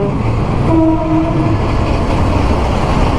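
A train rumbles past close by, with a brief horn-like tone sounding early over the steady, loud roar of the wheels.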